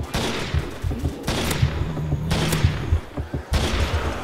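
Rapid gunfire from an Intervention sniper rifle in a zombie-survival video game, several loud sharp shots in bursts across the clip, with no talking.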